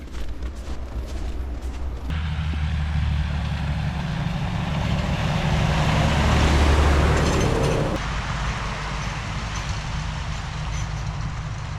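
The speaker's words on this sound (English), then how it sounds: "there's a main road on top there, and there's plenty of vehicles on that" Heavy vehicles rumble past on a main road above a snowy path, a steady broadband roar with low engine drone that swells as one passes close, then eases back to a continuous traffic wash.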